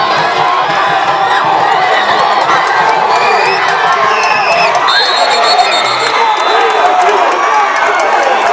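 A crowd at an island football game cheers and shouts steadily through a kickoff and return, loud and continuous, with a commentator talking over it.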